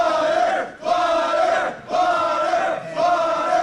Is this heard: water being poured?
no